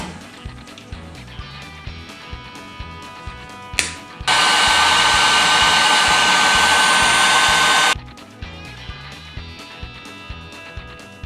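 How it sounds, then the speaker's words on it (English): Heat gun blowing steady hot air onto a solder seal connector joining broken reverse light wires on a 1994 Chevy Silverado, a loud continuous whoosh lasting about four seconds between quieter clicking and handling sounds. "now we're gonna use the heat solder to put it back together"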